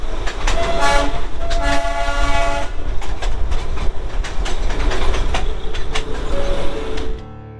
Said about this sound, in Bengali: কুড়ি মিনিট ঘুম স্টেশনে কাটানোর পর টয় ট্রেন আবার রওনা দিল